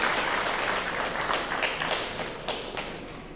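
Applause from mourners at a sung funeral service in Pleine Mapou: a fairly faint, steady patter of clapping with a few louder claps, running throughout and thinning slightly toward the end.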